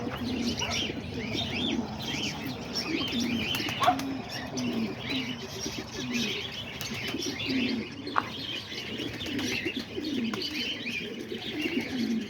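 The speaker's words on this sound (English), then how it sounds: "Pigeons are just out here having fun." Homing pigeons coo steadily in low, throaty phrases while chirps and occasional bursts of wing flapping break through, a busy, close flock with no talking.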